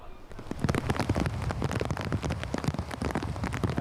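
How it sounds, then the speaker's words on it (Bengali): Heavy monsoon rain pours down steadily in coastal Barguna, a dense, constant hiss of drops pattering on surfaces close by, with no voices. "বরগুনায় কিন্তু মুষলধারে বৃষ্টি হচ্ছে"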